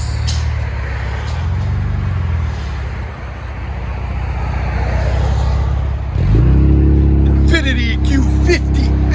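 A 2017 Infiniti Q50 S with a 3.0L twin-turbo engine and MBRP cat-back dual exhaust idles with a steady low drone, then revs up hard around the midpoint into a louder, rising exhaust roar, with people talking faintly in the background.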